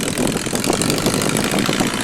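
A tractor engine runs steadily and close by, a continuous loud mid-pitched drone with a rough, slightly knocking texture and no voices.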